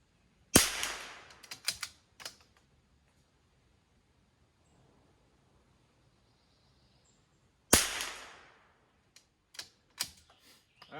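Gunshots at an outdoor shooting range: two loud, sharp reports about seven seconds apart, each with a short ringing tail, followed by a few faint clicks and handling knocks in otherwise quiet air.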